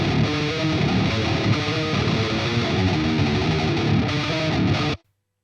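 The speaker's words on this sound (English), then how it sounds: "So if I turn everything off and just have the amp how it is and play this little riff here at -7" Distorted electric guitar riff through the amp alone, pitched down seven semitones, played as dense, continuous heavy chugging that sounds rough and flubby, with no talking, stopping abruptly at the end.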